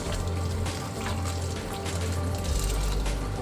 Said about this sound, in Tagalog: Ayan, dagdagan natin ng tubig.